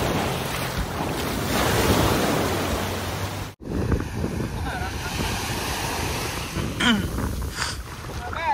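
Ocean surf rolls and crashes close by while someone swims off St. Maarten, with heavy wind buffeting the microphone and continuous rushing water, briefly cut out partway through.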